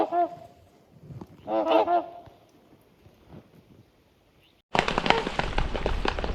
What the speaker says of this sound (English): a snow goose that's been honking and circling this lake